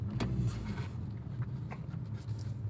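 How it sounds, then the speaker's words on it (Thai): Steady low rumble from the titanium exhaust of a 2018 Toyota C-HR, a deep, soft, even idle heard up close. "ท่อเขาจะเสียงทุ้มๆ นุ่มๆ นะครับ"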